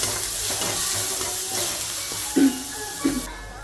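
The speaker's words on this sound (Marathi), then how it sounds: "याला छान गोल्डन कलर आला येईपर्यंत आपण भाजून घ्यायचं" Finely chopped onion roasting in a pan while making wheat-flour dhirde, a savoury pancake. A steady, close sizzle hisses throughout, broken by a couple of soft knocks from stirring.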